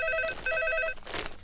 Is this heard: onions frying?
no